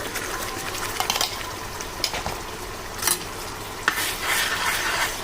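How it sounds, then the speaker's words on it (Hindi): Spinach and fenugreek frying with spices in a pan for chaman paneer, a steady close sizzle under stirring scrapes and a few sharper clinks, with no voices. "फ़ौरन से हम इसमें पालक और मेथी डाल देते हैं"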